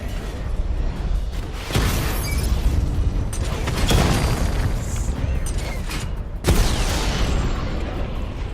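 The Batmobile tank in Batman Arkham Knight smashes enemy vehicles amid grinding mechanical rumble and repeated booming explosions, with sharp blasts near 1.7 and 6.5 seconds over continuous loud battle noise.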